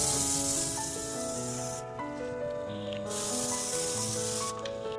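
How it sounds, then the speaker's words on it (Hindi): Air freshener sprayed in a kitchen to clear cooking smell, a loud steady hissing spray in long bursts with a short pause, over a constant background hum. "तो मैं अभी ये सब स्प्रे करके थोड़ा स्मेल निकालती हूँ बाहर"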